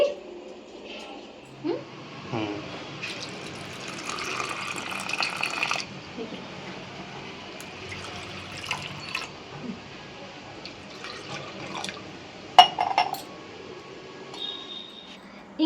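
Lentils are rinsed in a kitchen bowl before soaking: soft sloshing, dripping and squishy stirring in water, fairly quiet and uneven, with brief splashy bursts and occasional small clinks.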